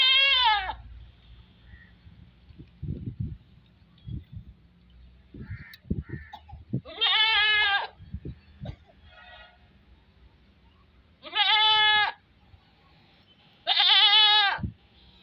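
A goat is milked by hand in a village and gives four loud, clear, close bleats, with softer rustling and shuffling between the calls.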